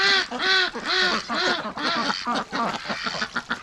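Breeding ducks, including Rouen ducks, quack and honk in a loud, dense chorus close by, overlapping calls in rapid rhythmic bursts.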